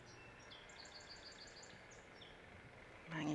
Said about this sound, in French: je veux vous laisser entendre le bruit des oiseaux